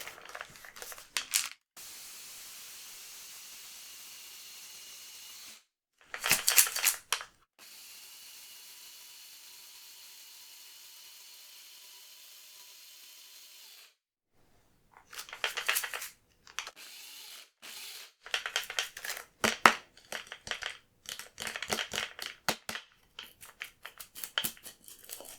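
Coffee beans being coarsely ground in a small electric grinder or blender, loud whirring bursts that start and stop in short pulses, with longer steady stretches of lower whirring between them.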